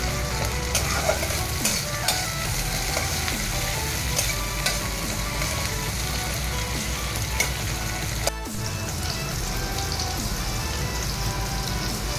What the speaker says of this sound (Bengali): পেঁয়াজগুলোকে আপনারা লাল লাল করে ভেজে নেবেন